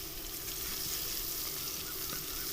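Green chillies stuffed with achari masala sizzle quietly in a pan for achari chana dal, a soft continuous frying hiss with little movement, faint and brief, no one speaking.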